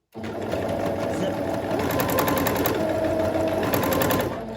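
A domestic sewing machine stitches continuously with a steady, rapid mechanical whir and chatter, close and fairly loud, running alone for about four seconds.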